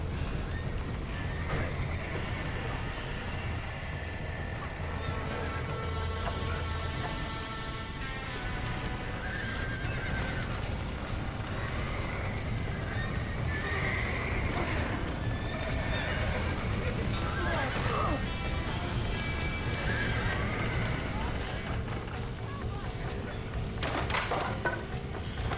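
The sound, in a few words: horses neighing and hooves in video game Red Dead Redemption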